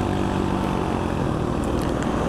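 A motorcycle climbs a steep hill in Bangladesh in third gear, its engine a loud, close, steady droning hum that never lets up.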